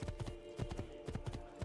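Horse hooves clip-clop in Assassin's Creed II, a steady run of sharp, close hoof strikes in an even rhythm, about a dozen hits in quick succession with no talking.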